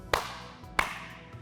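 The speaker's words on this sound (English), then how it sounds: "give yourselves a big clap" Two crisp hand claps, close and evenly spaced, during a kids' yoga exercise, with a faint hum between them.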